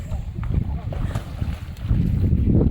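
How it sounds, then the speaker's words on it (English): Wind gusting over open water at a summer family outing, a steady low rumbling buffet close on the microphone that swells louder toward the end, with people talking underneath. "Uh-oh, too windy."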